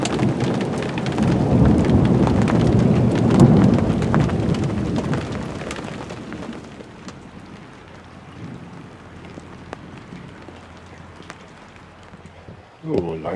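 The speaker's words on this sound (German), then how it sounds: "nach dem Regen begann es zu schütten und nach dem Schütten begann es zu hageln" Heavy downpour with thunder rumbling, loud and close at first, then easing into softer patter and drips as the storm thins out, with a sharp knock near the end.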